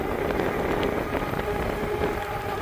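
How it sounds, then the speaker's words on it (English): Steady, dense rain patter with a constant hiss and faint wind noise, no voices. "It's starting to rain pretty bad now."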